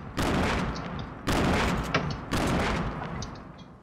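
Three heavy blasts from grenades and gunfire in a Fortnite match arrive about a second apart, each a loud booming burst that decays with crackling tails.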